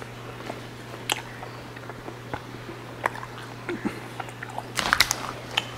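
Close, soft chewing of Sour Punch chewy candy, with irregular sticky bites and smacks over a low steady hum, growing busier toward the end.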